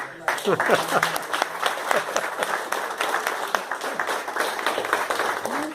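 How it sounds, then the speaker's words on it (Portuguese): Audience applause after a call for a round of clapping at an education rally in Osasco, a steady dense patter of many hands filling the room for several seconds, with a voice briefly audible underneath. "uma salva de palmas"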